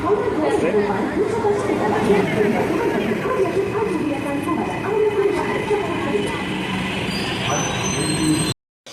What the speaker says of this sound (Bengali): এই যে আমাদের মেট্রো চলে এসছে।